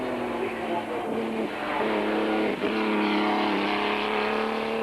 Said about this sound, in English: the fabulous sound of this lusty engine